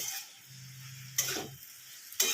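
A spoon stirs and mixes vegetables in a pan for borboti tarkari, giving soft scraping and sizzling with two sharp utensil knocks against the pan.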